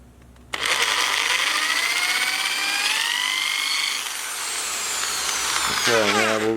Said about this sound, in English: when you're drilling into this, we only want to use a slow speed